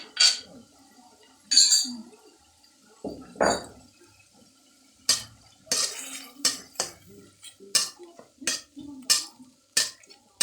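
Mixed vegetables with pork stir-fried in a pan in a Thai home kitchen on a rainy day: scattered metallic clinks and scrapes of a utensil against the pan in irregular bursts, with sizzling in between.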